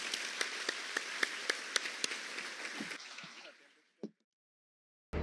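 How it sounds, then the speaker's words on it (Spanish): Applause at a national infrastructure congress panel, dense clapping that fades out over about three seconds, followed by brief isolated noises and silence. "un aplauso para los alcaldes"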